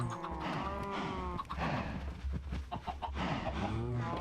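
Chicken clucks and farm-animal calls from Minecraft, a blocky video game, come in short repeated bursts over a busy, steady game background, fairly close and clear.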